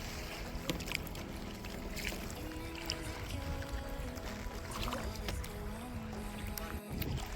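A kayak or small boat moving on the backwaters at Kochi, Ernakulam, with steady water wash and wind rushing across the microphone throughout, loud and continuous with no talk.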